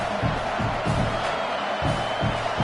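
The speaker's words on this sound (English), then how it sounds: "This crowd trying to do its part to get inside the kicker's head." Stadium crowd noise in a college football video game, a steady broad roar with rhythmic swelling chants as a kicker lines up, moderately loud and continuous with a faint commentator voice underneath.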